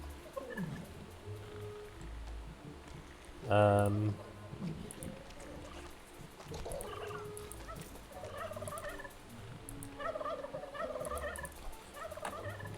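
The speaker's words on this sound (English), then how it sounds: "Battle chickens!" Battle chickens in the Dungeons 3 video game give a brief loud gobbling, clucking burst amid game sounds, with a person talking throughout.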